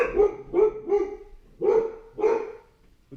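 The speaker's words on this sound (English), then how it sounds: "The dogs love barking right when I make a video." Several dogs barking in two bursts, three sharp barks then two more after a short pause, fairly close and loud with no talking over them.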